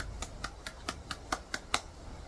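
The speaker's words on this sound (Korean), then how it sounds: "하나님께 영광의 박수." Slow, evenly spaced clapping at a church gathering: about eight distinct claps in a steady rhythm, growing slightly louder, fairly distant and faint with no talk over them.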